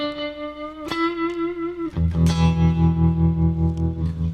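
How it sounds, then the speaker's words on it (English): A clean Telecaster electric guitar played with vibrato and a touch of reverb, a ringing note followed by a sharp strum and then a wavering sustained chord, close and prominent. "nice clean signals, Telecaster tone with some vibrato and a little bit of reverb."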